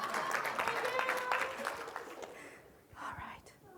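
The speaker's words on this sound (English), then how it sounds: "can we give Cindy a round of applause for actually participating the way she was supposed to?" A small audience at a web accessibility talk gives a brief round of applause that thins out, with a little murmured talk as it ends.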